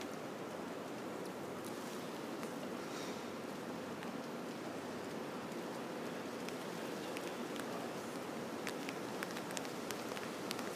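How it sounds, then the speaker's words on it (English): A band of rain sweeping through during Hurricane Irma, a steady broadband hiss and patter that holds evenly for the whole stretch, with scattered sharper drop ticks and no voices. "We got a little one coming through here, a band of rain coming through"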